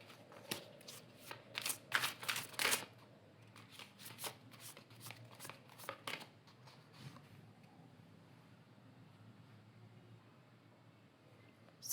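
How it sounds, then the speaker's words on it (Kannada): An angel guidance card deck is shuffled with rapid, crisp riffling bursts that quieten into a few soft card slides and taps, close and otherwise quiet. "ಒಂದು ಕಾರ್ಡ್ ತೆಗಿತಿದ್ದೀನಿ ನಾನಿಲ್ಲಿ."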